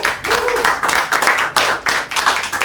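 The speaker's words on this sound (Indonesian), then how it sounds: "Boleh tepuk tangan dulu." Audience applause and clapping at a comedy game show, dense rhythmic clapping from a crowd sustained throughout, with faint voices mixed in.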